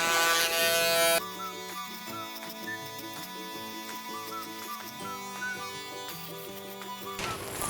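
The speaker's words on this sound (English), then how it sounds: "Then to the box shaver to bring it in real tight." An electric box shaver buzzes loudly and continuously during a skin fade haircut, its steady hum shifting slightly in pitch as it works close by.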